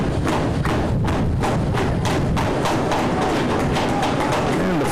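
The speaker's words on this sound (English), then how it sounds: "the Robstown crowd starts to bang on the bleachers" Robstown fans at a high school baseball game in Zapata bang on metal bleachers, a loud, continuous rumble of rapid thuds and clangs with a rough, rhythmic pulse and faint voices underneath.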